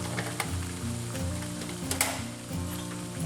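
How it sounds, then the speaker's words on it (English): Cabbage dumped into a hot pan with garlic and onion for Nebraska cabbage burgers, sizzling steadily at a moderate level with a few small clicks and scrapes. "So I'm gonna dump this in with my garlic and my onion"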